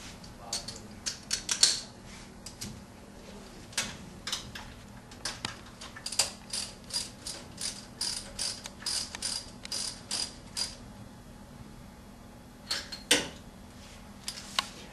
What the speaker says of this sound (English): When you have it all the way down in there, you should snug it with a wrench.